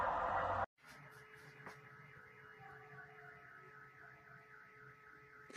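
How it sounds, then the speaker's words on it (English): A police siren wails in a steady rising-and-falling pattern, distant and fairly faint, over a low hum of background noise. "the police have turned on their sirens as they start to respond to the scene"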